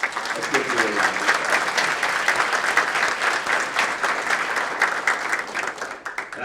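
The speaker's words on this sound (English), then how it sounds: "Let's give you a round of applause." A room of attendees at a women's achievement awards luncheon gives steady, dense applause for an honoree, continuous and moderately loud throughout, with some voices faintly underneath.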